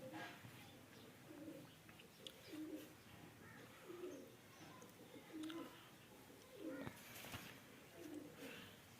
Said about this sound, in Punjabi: ਸਾਰੇ ਇੱਕੋ ਪਰ ਦੇ ਵਿੱਚ ਕਬੂਤਰ ਹਨ